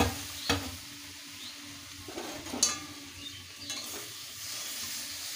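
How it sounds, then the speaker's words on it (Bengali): Pumpkin greens are stirred and fried in a pan, giving a soft continuous sizzle broken by several distinct scraping strokes of the spatula against the pan, close by and without talk. "নেড়ে চেড়ে ভালোভাবে ভেজে নেব।"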